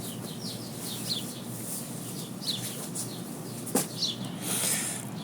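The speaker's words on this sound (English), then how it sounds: "When you hear a bird" Bird chirping, a few thin, quick repeated chirps rising above a steady background hiss, faint to moderate, with no voices.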